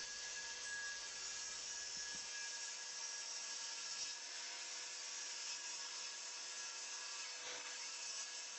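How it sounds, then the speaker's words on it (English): Oak wood pieces being sawn to length by hand, a steady continuous rasping stroke held close and fairly quiet throughout, with no voices. "I cut two good pieces of wood, cleaned them up and saw them to length"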